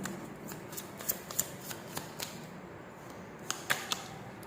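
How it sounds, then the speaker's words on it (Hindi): Tarot cards are shuffled and handled close by, quiet riffling with crisp snaps and flicks at irregular intervals in a calm room. "यहां से मैं 3 कार्ड्स लूंगी"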